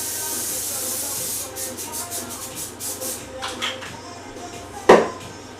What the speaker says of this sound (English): I like to use spray oil.